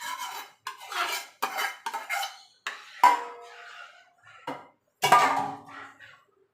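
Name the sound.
stirring sago into cold milk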